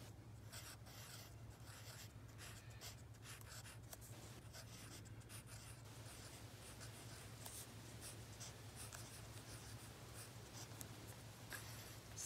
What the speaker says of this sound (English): Let's write that down.